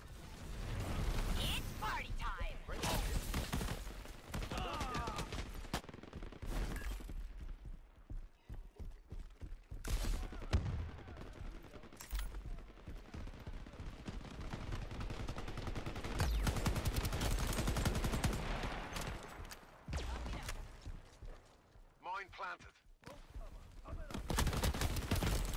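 Gunfire and explosions ring out in a shooter video game where a grenade launcher is in use, with bursts of shots and booms spread across the stretch at moderate loudness and talking in between.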